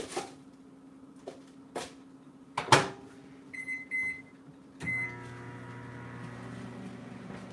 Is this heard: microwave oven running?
yes